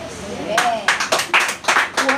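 A church congregation claps in bursts of sharp, uneven applause under a preacher's voice, several loud rounds close together.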